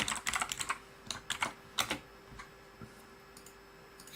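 Typing on a brand new gaming keyboard, bursts of crisp key clicks in quick clusters with pauses between, close and moderately loud over a faint steady hum.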